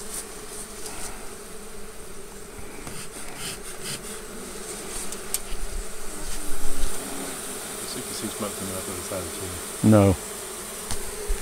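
Honeybees buzz continuously around a hive being removed from behind a chimney, a dense drone with scraping and rubbing noises, a louder burst near the end, and a brief spoken word.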